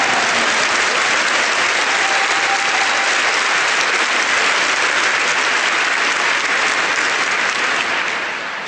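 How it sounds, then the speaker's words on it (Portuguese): A large church congregation breaks into sustained applause for the Lord, a dense, even wash of clapping that holds steady throughout and eases off slightly at the very end. "Now give the Lord a big clap."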